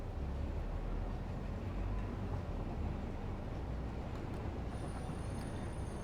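A train in the video game Satisfactory rumbles past with a steady low roar that fills the whole stretch at even loudness, without breaks or talk.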